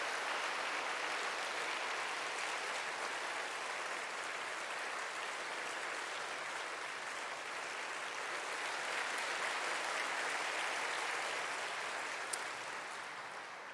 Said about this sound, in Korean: 신임 속장님들을 위해서 큰 박수를 해주시면 감사하겠습니다